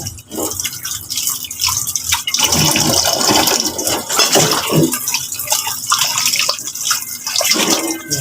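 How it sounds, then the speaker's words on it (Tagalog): Dishes and plates are washed under a running tap, with a loud, close, continuous splashing water flow and intermittent clattering and dripping over several seconds. "Hugasan muna natin mga kalisen kasi may langgam yung kanilang plato."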